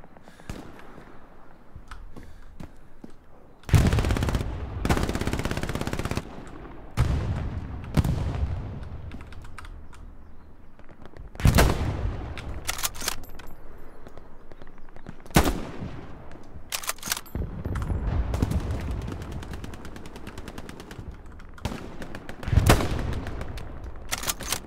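Gunfire in the World War II shooter game Hell Let Loose comes as sharp, loud bursts and rattling volleys at irregular intervals, with quieter, dense crackling between them and no talk.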